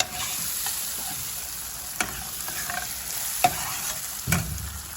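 Butter hits melted sugar in a pan, giving a close, steady sizzle with scattered pops and a few sharp utensil knocks against the pan.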